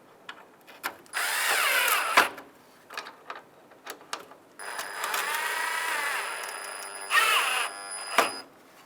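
A power drill drives screws into a trim piece on a 1992-1996 Ford F-150, several bursts of close whirring that rise and cut off, separated by short clicks and handling noises.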